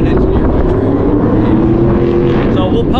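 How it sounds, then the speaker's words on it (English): Traffic rumbling past on a street in Ely during race week, a loud, continuous vehicle drone with wind buffeting on the microphone. "there's just some traffic here"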